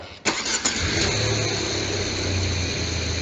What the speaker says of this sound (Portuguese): Dá a partida para nós, por favor.